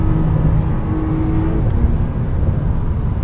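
Porsche 911 (992) Carrera 4S with 450 hp accelerating on the road, a dense, loud engine roar heard from inside with steady road rumble beneath, no voices.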